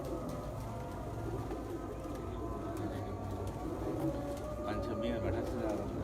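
Pigeons coo softly at a racing-pigeon loft in Punjab as the first bird arrives and settles, with steady background noise and voices talking over it throughout.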